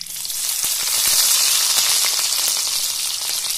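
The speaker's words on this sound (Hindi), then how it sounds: "इन दोनों को अच्छे से फ्राई कर लेंगे, हरी मिर्ची और प्याज को।" Green chillies sizzling in hot oil with browned cumin seeds, a steady bright frying hiss with scattered spits and crackles, close and continuous throughout.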